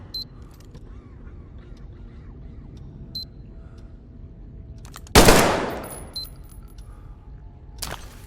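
A .45 automatic pistol test-fired in Metro Exodus: one loud, close, sharp shot with a decaying tail, then a quieter second burst near the end, over low ambient hum.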